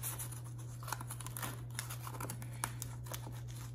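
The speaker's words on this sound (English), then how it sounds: "At this point, I like to go all the way around, get the caramel unstuck" A grandmother's old spatula scrapes caramel loose around the edge of a pan of oatmeal caramel chocolate chip cookie bars, giving short, irregular scratchy strokes over a steady low hum.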